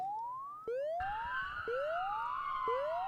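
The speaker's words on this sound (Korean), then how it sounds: "경찰차 오는 소리 들린다." A video game police siren wails in repeated rising sweeps, loud and close, with electronic tones layered on top and no talking.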